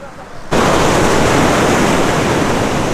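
Surf rushes onto a black sand beach in Madeira, a loud, broad wash that suddenly swells after a quiet half second and holds steady, with wind buffeting the microphone.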